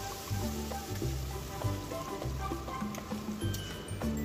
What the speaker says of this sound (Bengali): এবার আমি মশলাটাকে ওই তেলের মধ্যে দিয়ে একটু ভালো করে কষিয়ে নেব